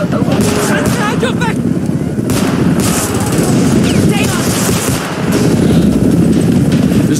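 Dense gunfire in the video game Homefront crackles continuously through a loud battle, with rapid shots layered over rumbling noise while voices shout orders on top.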